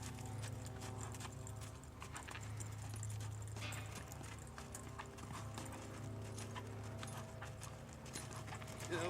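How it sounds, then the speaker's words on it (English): Horse hooves clip-clopping steadily at a lope during riding training, a continuous rhythmic beat close by with a brief whinny and faint background voices. "teach your horse to lope off"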